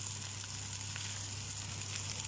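Brown rice being added to a hot frying pan for egg fried rice, giving a steady, fairly quiet broadband sizzle that holds evenly throughout, with a low constant hum underneath and no talking.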